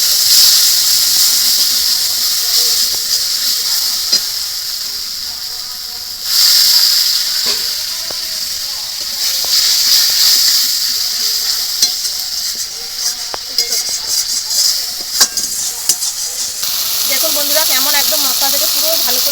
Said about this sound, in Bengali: এবার জল দিয়ে মশলাটা একদম ভালো করে তেল ছাড়া পর্যন্ত কষিয়ে নেবো